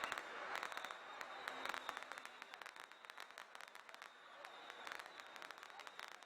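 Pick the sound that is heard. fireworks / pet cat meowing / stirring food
fireworks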